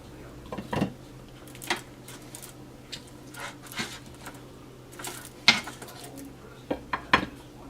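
Cooked baby back ribs from a pressure cooker being moved from a cooking tray to a serving tray, with scattered clinks and scrapes of utensils against metal trays, sparse and fairly close.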